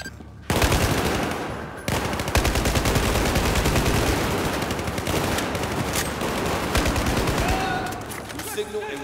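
Heavy automatic gunfire in the Battlefield 4 campaign, loud sustained bursts of rifle and machine gun fire starting abruptly after a brief pause and rattling on nearly continuously, with shouted voices mixed in.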